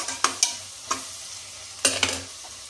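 Green chillies frying in hot oil in a pan, with a soft continuous sizzle broken by several sharp stirring clatters near the start and again toward the end.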